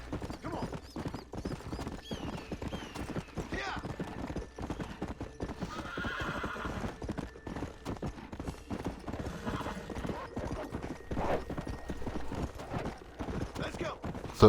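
Steady rhythmic hoofbeats of a horse at a gallop in Red Dead Redemption, close and continuous, with a brief whinny partway through.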